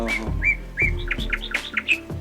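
Several birds call close by at the Ankasamudra wetland bird sanctuary in quick succession, bright whistled chirps and tweets repeating in short bursts.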